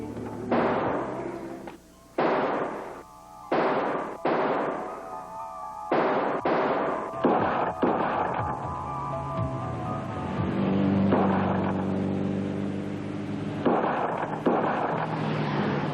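A car backfiring with loud, sharp bangs like gunshots, a series of separate close reports in the first half, then a rumbling engine and further thumps later.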